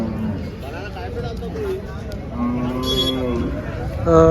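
Several cows, including HF and Jersey cows, moo nearby, long low calls overlapping with people talking in the background at the busy Chalisgaon cattle market.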